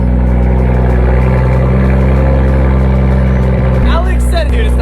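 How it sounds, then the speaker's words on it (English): A straight-piped BMW M2, still fitted with catalytic converters, runs after a cold start with a loud, steady low engine drone close by; people talk over it near the end. "But let's get a cold start."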